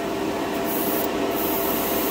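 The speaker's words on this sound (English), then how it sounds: "We're just spraying clean thinner." A continuous airy hiss of a Harder & Steenbeck Evolution airbrush spraying clean thinner runs steadily throughout, unchanging and fairly loud, with no talking.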